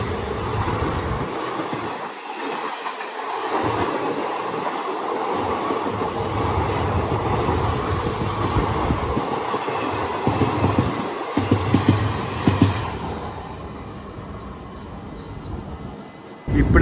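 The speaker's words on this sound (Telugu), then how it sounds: "చూడండి, మన ఎదురు ట్రైన్ వస్తుంది కదా, వ్యాప్ 7 లోకమోటివ్ అండి." An oncoming train hauled by a WAP-7 electric locomotive rushes past a moving passenger train, a loud continuous roar of wheels and rail clatter with rhythmic clacks, fading toward the end.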